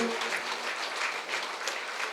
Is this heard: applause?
yes